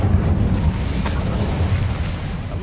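Casting the Incendio fire spell in Hogwarts Legacy gives a loud, deep roaring whoosh of flame that fills the whole clip, with a brief crackling flare about a second in.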